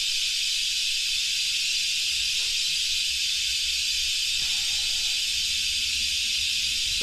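Steady broadband pink noise test signal hisses continuously and evenly throughout, loud and unbroken, with faint low rumbles and a couple of soft clicks beneath it.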